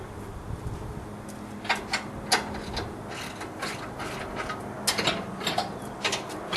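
Ratchet loosening bolts on a New Holland 630 baler, quick irregular clicking pawl strokes in short runs, close up over a low background hum.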